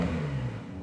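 Porsche 992 Targa 4S engine revving on a country road, a short burst of mid-pitched engine note that falls slightly in pitch, close and moderately loud.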